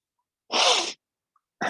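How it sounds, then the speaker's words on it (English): A single loud, sharp human sneeze bursts out close by, a breathy explosive blast lasting under half a second, followed by silence and the start of another sneeze at the very end. "Excuse me, I'm like having a sneezing fit."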